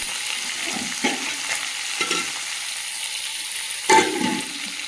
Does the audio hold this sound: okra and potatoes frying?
yes